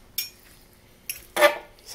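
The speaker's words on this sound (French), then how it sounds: "Il ne reste plus qu'à couper les morceaux et à déguster" A knife cuts pieces of cooked, rare venison on a plate. Three or four sharp clinks and scrapes of metal on the dish stand apart from near quiet.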